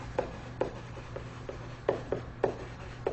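Chalk or marker strokes on a classroom board, a series of short dry taps and scrapes spaced irregularly over a low steady hum, fairly close with no talking.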